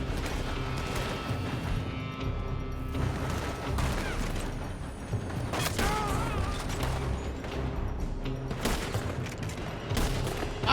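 Gunfire in Red Dead Redemption crackles in scattered volleys and sharp bursts over a busy, mechanical game soundscape, with a voice briefly calling out amid the shooting.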